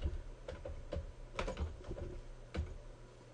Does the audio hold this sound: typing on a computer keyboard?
yes